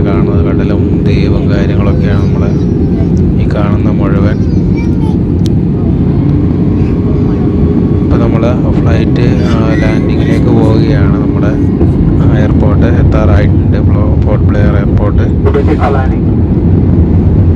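A passenger airliner flying from Bangalore and descending toward the Andaman Islands gives off a loud, constant low cabin drone, with voices talking over it throughout.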